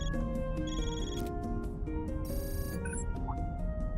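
A phone rings in the video game Trails through Daybreak, a bright electronic ringtone of repeating melodic tones over game music, loud and continuous for several seconds.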